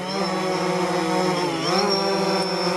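A steady, high-pitched droning whine of a DJI Phantom 4 Pro drone's propellers, loud and close, dipping briefly in pitch before rising again.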